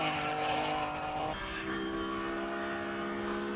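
A Porsche 911 GT3 RS races up a hill climb course, its engine a loud, steady roar with a brief shift in pitch partway through, sustained close by throughout.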